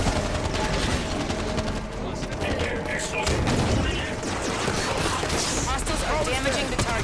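Rapid Halo 5 gunfire crackles through a busy firefight, with repeated bursts and mechanical clatter layered over game voices and effects throughout.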